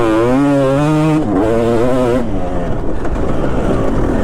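A Kawasaki KX250 two-stroke dirt bike ridden on a deep sand track, its engine loud and close with a rising then falling whine, revving hard throughout.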